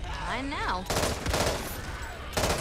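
Rapid automatic gunfire in the video game Back 4 Blood, dense bursts of shots close and loud, with a voice briefly talking over the start.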